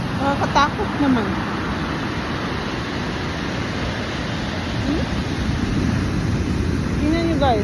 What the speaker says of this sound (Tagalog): Ang laking alon talaga